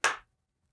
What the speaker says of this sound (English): An extra clap?